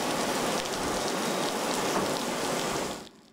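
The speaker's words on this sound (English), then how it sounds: "they drove through all that rain out there" Heavy monsoon rain pours down in Central Phoenix during a night thunderstorm, a dense, loud, unbroken hiss of drops on surfaces that fades sharply at the very end.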